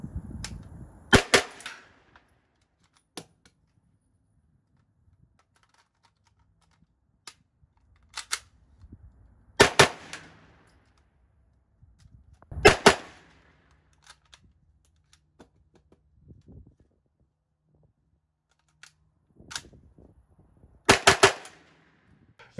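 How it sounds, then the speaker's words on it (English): An HK MP5 submachine gun fires sharp bursts and single shots outdoors, spaced across the clip, with quiet metallic clicks and clacks of the bolt locking, the magazine being swapped and the bolt slapped closed in between. "Firing your last round, before you drop the magazine, you lock the bolt open, drop the magazine, insert the magazine, and you do your HK slap"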